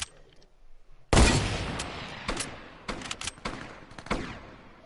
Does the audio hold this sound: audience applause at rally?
no